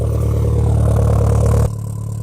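A Toyota Celica ST162 engine idles with a steady low rumble and exhaust drone, close and loud, its tone dropping slightly near the end.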